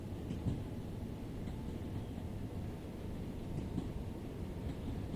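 A Class 387 electric train on the Brighton Main Line in Train Sim World 5, accelerating at full power, gives a steady low rumbling drone with a faint whine above it, continuous and even throughout.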